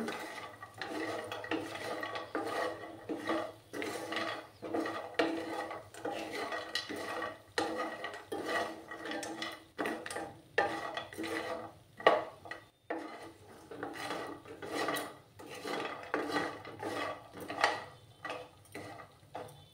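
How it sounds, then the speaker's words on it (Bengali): Lentil vadi (bori) fry in a pan over a low flame while being stirred, giving irregular soft clicks, taps and scrapes of a utensil against the pan, quiet and close, with no one talking. "একটু সময় আমি লাল লাল করে বড়িগুলোকে ভেজে নিচ্ছি"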